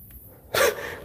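A single short, sharp sneeze bursts out once, fairly quietly, inside the old Onomichi No. 4 railway tunnel, with near silence around it.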